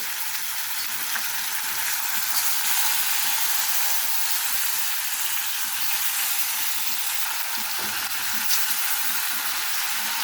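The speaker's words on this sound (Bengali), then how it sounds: "এই মাছটা ভালোভাবে মশলা করে ভেজে নেব" Puti fish coated in spices fry in a pan with tomato and garlic, a loud, continuous sizzle and hiss close up, with occasional soft stirring and no voices.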